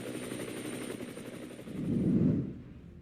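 A 1961 Boeing CH-47 Chinook military helicopter drones with rapid, pulsing rotor chop, a dense throbbing roar that swells briefly toward the end before fading off.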